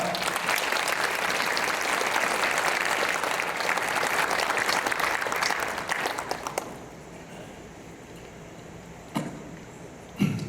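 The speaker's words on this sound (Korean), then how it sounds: "목사님 나오실 때 큰 박수로 우리 환영하겠습니다" A church congregation bursts into loud, dense applause welcoming a pastor to the pulpit, sustained for about six seconds before dropping away to quiet room tone with a couple of brief knocks near the end.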